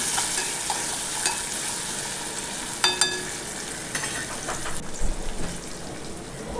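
Onion and steamed green peas are stir-fried in oil for matar poha, a steady close sizzle with occasional scrapes and taps of the spatula against the pan.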